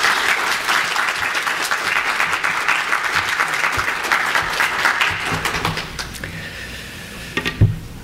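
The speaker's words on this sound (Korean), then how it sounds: "우리 목사님 나오실 때 박수로 맞이하도록 하겠습니다" Congregation at a Sunday worship and ordination service in a Korean church applauds the pastor's arrival, sustained steady clapping that fades after several seconds into quieter room noise and a few stray thumps.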